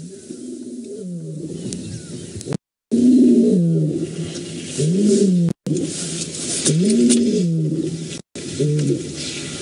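Deep, repeated roaring calls from a male lion on safari rise and fall in a series of grunting bursts, fairly near and loud, with brief silent gaps between them.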